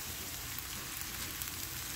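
Vegetable fried rice frying in a skillet gives a steady, dense sizzle that holds an even level throughout, with no voices.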